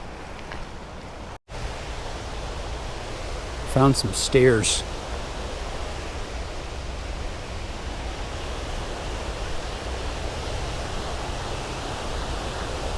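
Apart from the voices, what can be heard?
waterfall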